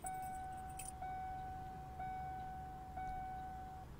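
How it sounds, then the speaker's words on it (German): A Toyota Land Cruiser in the bus simulator game Omsi 2 gives its electrics switch-on chime: four steady, evenly spaced electronic beeps about a second apart, soft and clean over a faint background hum. "Auch hier der Einschaltsound von der Elektrik."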